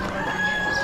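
Chickens (pullets) at an Amish animal auction, a steady fowl clucking and crowing chorus filling a short stretch, moderately loud and continuous with no talk over it.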